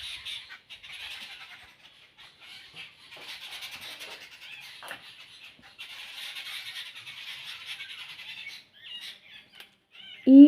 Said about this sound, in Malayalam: ഇത് കൂട്ടത്തോടെ വരും, വലിയ സൗണ്ട് എടുത്ത് കരയുകയും ചെയ്യും.